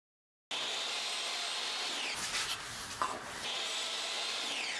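A power tool cuts leftover plywood pieces to size, a loud, steady whining buzz that starts abruptly, dips briefly mid-cut as the blade bites the wood, then resumes at full strength.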